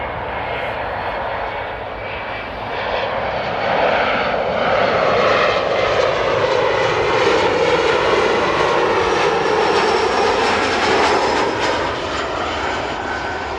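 A Saudi cargo Boeing 747 jet on landing approach at Amsterdam Airport gives a loud, steady engine roar that swells slightly and holds, heard alone.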